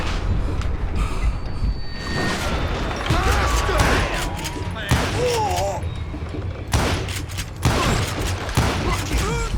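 Rapid gunfire from the Western shooter Call of Juarez: Gunslinger, with bursts of shots and booming blasts filling most of the stretch, loud and dense, with brief pauses between volleys.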